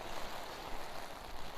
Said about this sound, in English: Man, it's really raining now.